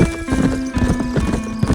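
Horse hooves clip-clopping at a steady gallop in the video game Red Dead Redemption, with a brief whinny, close and continuous over game ambience.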